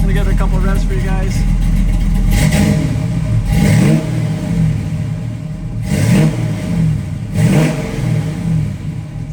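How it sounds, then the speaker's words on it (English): A 1969 Chevrolet Camaro SS clone with a GM ZZ4 355 crate V8 and Muncie four-speed, idling loudly then blipped in three sharp revs, with someone talking over it. "I'm gonna give it a couple of revs for you guys"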